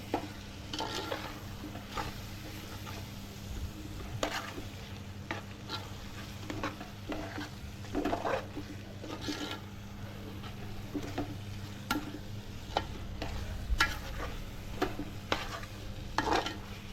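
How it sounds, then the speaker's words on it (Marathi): Spice masala for a homemade prawn biryani being stirred and mixed in a pan, with a steady low sizzle and repeated scraping strokes of a spoon against the metal, close and continuous, with no voices. "आता हे सर्व मसाले आपल्याला एकजीव करून घ्यायचे चांगला मिक्स करून घ्यायचा आहे"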